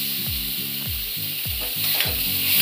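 Lentils frying with spices in a pan for a ridge gourd curry, a constant bright sizzle with regular rhythmic scraping strokes of a spoon stirring, close and without talk.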